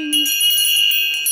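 A bright magical bell ding rings out close and clear, with bursts of shimmering chimes over a ringing tone and a brief spoken voice at the very start.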